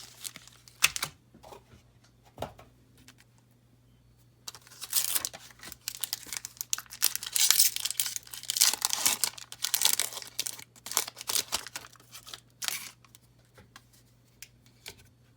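A Magic the Gathering Rivals of Ixalan booster pack wrapper is torn open and crinkled, with bursts of crisp foil rustling and tearing that come and go over a faint steady hum.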